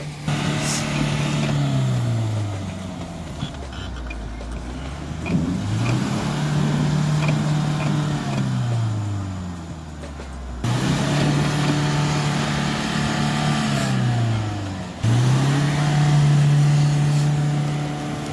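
Mahindra Thar off-roading at midnight on snow, its engine revving hard in repeated long rising and falling pulls, loud and close, with brief dips between bursts and no talk.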